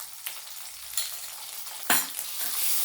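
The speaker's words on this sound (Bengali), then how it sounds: "দিয়ে ভালো করে আমি কষিয়ে নেব মশলাটাকে।" A spoonful of ground coriander-cumin paste frying in a pan for a vegetarian eggplant dish, giving a soft sizzle broken by a few sharp stirring scrapes near one and two seconds.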